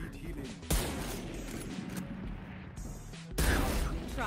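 Gunfire in the video game Valorant, with two sharp shots standing out over steady game noise and other sounds. A voice may be talking underneath.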